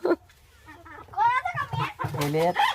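Chickens clucking close by, with hens' calls rising and falling in short bursts over a few seconds.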